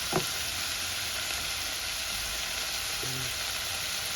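Green cowpea (lili chori) vegetable curry simmers in a pan with a steady soft sizzle, broken by a utensil clink at the start and another faint tap later.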